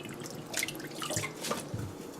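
Water runs from a tap into a sink, splashing and dripping unevenly over watercress being rinsed, close by.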